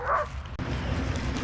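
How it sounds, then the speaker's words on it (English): A dog gives one short bark near the start, followed by an abrupt cut into steady outdoor background noise with no further barking. "There's a dog trying to kill a little kid."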